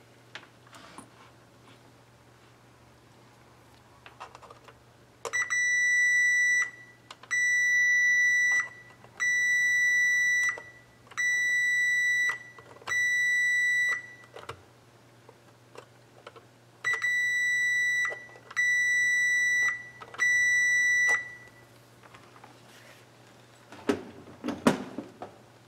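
Multimeter continuity beeps while testing a Siemens 3TK2807-0BB4 emergency-stop safety module: a high tonal beep repeats in steady, roughly one-second pulses, five then four, over a low hum with faint handling clicks and no talk.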